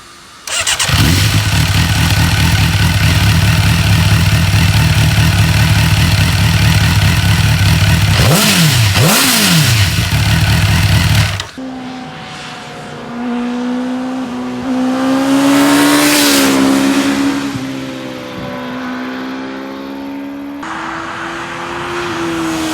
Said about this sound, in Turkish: İstiyorsanız size motorun sesini bir dinleteyim.